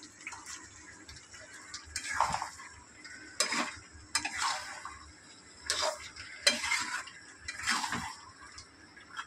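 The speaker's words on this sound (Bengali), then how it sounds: "আলু দিয়ে একটু কষুক" Potatoes and mutton stir-fried in a pot, a faint background sizzle under repeated scraping strokes of a spatula against the metal every second or two, close and fairly quiet.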